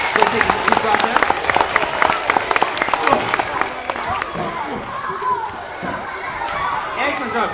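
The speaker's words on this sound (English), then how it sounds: "Let's give Lucas a great big round of applause" An audience at a Kentucky farming program claps for Lucas the farmer, a dense, steady round of applause with scattered cheers, which thins into lighter chatter and crowd noise midway.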